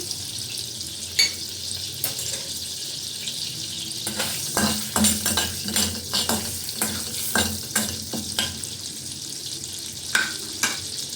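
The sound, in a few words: butter melting and sizzling in pan with whole spices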